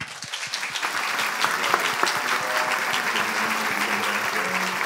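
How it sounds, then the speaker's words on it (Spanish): A crowd at a women's meeting claps warmly as a politician is welcomed onto the stage, the loud, dense applause building within the first second and then holding steady throughout. "un fuerte aplauso"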